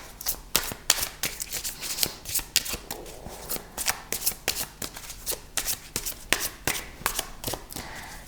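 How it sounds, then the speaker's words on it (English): Tarot cards are riffled and shuffled over and over in quick, crisp bursts, close by and fairly quiet, with no talking. "And I like the shuffling on camera."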